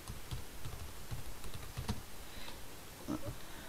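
A name is typed on a computer keyboard: a short, quiet run of irregular key clicks close by, with no talking.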